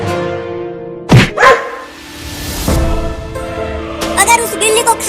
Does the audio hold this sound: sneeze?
no